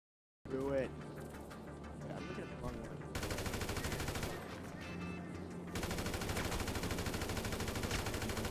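Rapid gunfire from a GTA 5 match crackles in dense bursts that run almost without a break, loud and close, with a brief mechanical whine near the start and game sounds mixed in.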